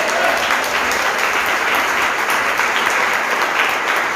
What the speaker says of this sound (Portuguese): Isso merece uma salva de palmas para Jesus